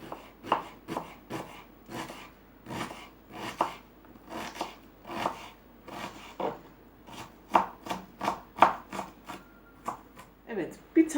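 Two medium onions are diced into small cubes with a knife on a cutting board, giving a steady run of crisp, close chopping strikes in an irregular rhythm.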